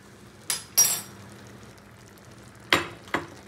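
Metal spoon scrapes and clinks in a pot of nearly cooked pulao after saffron milk is added, four short distinct stirring knocks spaced apart over a quiet background.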